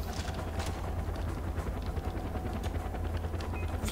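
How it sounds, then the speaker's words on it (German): A helicopter in the video game Far Cry 4, co-op multiplayer at Pagan Min's fortress, gives a steady low rotor drone with a constant rumble that holds for the whole few seconds. "Oh oh, der Helikopter."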